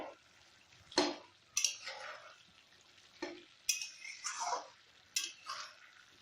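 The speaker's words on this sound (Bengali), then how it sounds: "আস্তে আস্তে একটু নাড়তে হবে।" Mutton kosha is stirred in a pan with a utensil: several separate scraping strokes with soft sizzling between them, close and fairly clear, with no talking.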